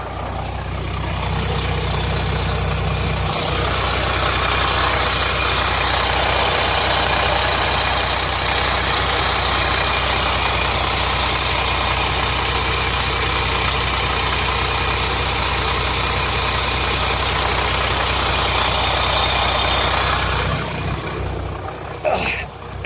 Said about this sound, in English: It sounds to me like it could be the pump chain that's loose.